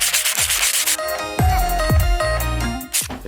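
Sanding a floor tile on a staircase during tiling work, a steady abrasive rubbing with a few sharp scraping strokes and tonal squeaks, fairly loud and close, no talking.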